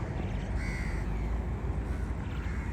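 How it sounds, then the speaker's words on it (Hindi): Crows caw in Jeddah against a steady background rumble, their calls faint and somewhat distant, with no talking. "कौवे का आवाज आ रहा है"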